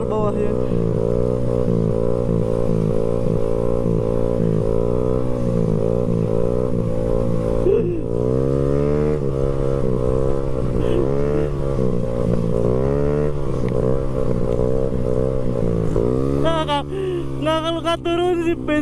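A loud Honda Beat 115cc motorcycle with a racing exhaust drones close by, rising and falling as it revs, with a harsh exhaust note and a voice now and then.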